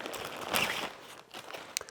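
A blue plastic bag packed with a color-changing inflatable Christmas tree is pulled open, giving faint, close crinkling and rustling in short bursts, quiet and unaccompanied by talk.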